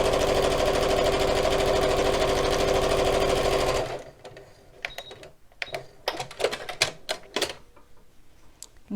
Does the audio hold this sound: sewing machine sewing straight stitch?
yes